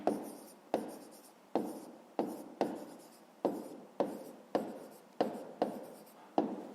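A pen writing out a maths answer by hand on paper in a fifth-grade exercise, with about a dozen short scratchy strokes in a steady rhythm, close and quiet.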